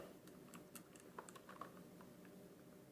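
Light, fast clicking keystrokes on a Rii 902 gaming keyboard with high-rise keys, faint and close, tapping in a quick irregular run with no talking.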